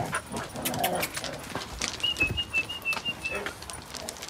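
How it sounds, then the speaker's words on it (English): Dogs whimper and whine in high, thin tones amid shuffling and panting, with a voice talking over them; no clear barks stand out. "Come on, Gigi, join the party. Good dogs."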